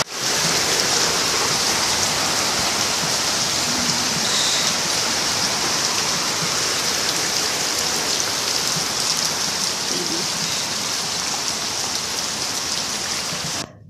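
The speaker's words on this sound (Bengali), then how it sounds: "দেখো বৃষ্টিটা মারাত্মক পরিমাণে, 5 থেকে 7 মিনিট বৃষ্টিটা পড়েছে, তাতেই রাস্তায় এত পরিমাণে জল গড়াতে আরম্ভ করেছে" Heavy rain pours down steadily and loudly onto a road, with water running along it, forming a dense, unbroken hiss that holds at an even level for the whole stretch.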